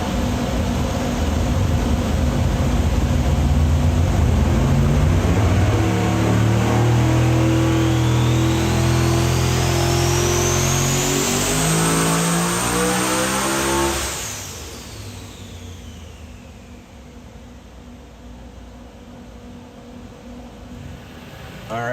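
Modified car engine on a chassis dyno revs loud and hard, pitch climbing steadily through the gears before slamming into the rev limiter and dropping sharply to a lower, quieter idle.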